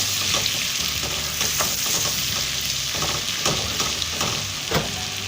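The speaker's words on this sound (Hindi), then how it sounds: "अब इसके अंदर मैं ये जो मैंने अदरक की हुई थी उसको मैं डालूँगी। अदरक को थोड़ा सा मिक्स कर दूँगी।" Chopped ginger sizzles in hot butter and oil for butter chicken, with a steady, dense crackle of frying and intermittent scrapes of stirring close by.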